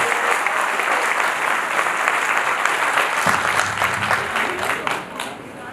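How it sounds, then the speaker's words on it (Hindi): Loud, sustained applause from a large audience at a political gathering, dense clapping filling the whole stretch and thinning slightly near the end, with a faint voice briefly under it. "जोरदार तालियों के साथ सबका स्वागत।"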